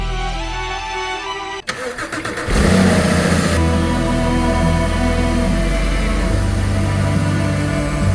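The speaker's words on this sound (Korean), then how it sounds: "시동을 한번 켜보겠습니다." A 2012 Porsche Cayman 987.2, just fitted with a new accessory belt, tensioner and pulley, cranks briefly with a sharp click, fires up loudly and settles into a steady, close idle.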